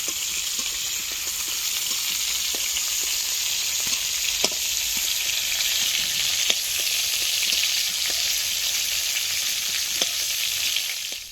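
Cauliflower florets frying in hot oil while cooked to a light reddish colour, giving a steady close sizzle with occasional sharp pops and crackles throughout, no voices.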